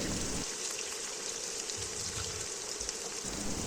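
Chopped onions sizzle steadily in hot soybean oil in a wok, a continuous close hiss and crackle that swells briefly as more pieces drop in.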